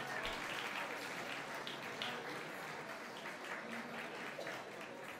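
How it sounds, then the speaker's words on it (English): Audience applause for Dean Mora and his orchestra at the Cicada Club, a steady wash of clapping that holds evenly through the whole stretch at moderate distance. "how about another big round of applause for Dean Mora and his orchestra?"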